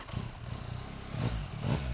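A faint, low engine rumble that swells twice toward the end as a 2021 Yamaha MT-09 SP motorcycle engine turns over and starts.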